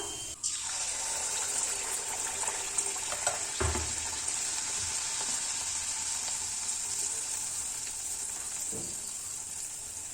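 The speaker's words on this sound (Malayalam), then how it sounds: "എണ്ണ ചൂടായി വന്നിട്ടുണ്ട് നമുക്കൊരു ചെറിയ തവിയുടെ കണക്കിന് ഇതിലോട്ട് മാവ് ഒന്ന് കോരി ഒഴിച്ചു കൊടുക്കാം" Rice flour batter ladled into hot oil, setting off a bright, continuous sizzle and bubbling that stays steady and close throughout, with a few small clatters and no voices.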